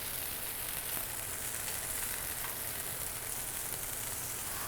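Chicken sautés in a hot pan with a steady, dense sizzle that holds level throughout, close and loud with no voices.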